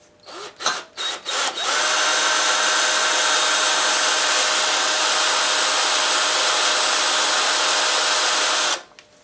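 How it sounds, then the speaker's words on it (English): A small electric drill bores into a part of a Maytag 72 engine under repair, with a few short bursts at the start, then one loud, steady whirring run of about seven seconds that stops abruptly near the end. "Let me get a bigger drill, because this one here is kind of tiny"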